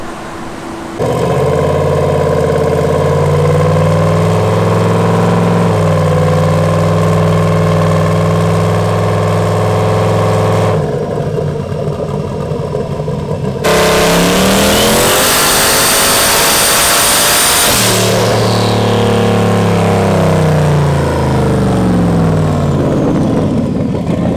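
A turbo LS-swapped Mustang V8 on a dyno drones steadily, then revs hard to about 6,200 rpm through a rising roar before settling back, loud and continuous throughout with no voices.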